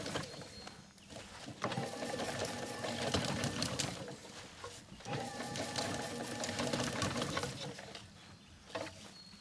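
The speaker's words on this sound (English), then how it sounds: "That machine should almost constantly be moving like this all the time." A Christmas garland making machine runs steadily, giving a continuous whirring, rattling mechanical sound with brief dips and surges as the wire wraps, at moderate level close by with no talk.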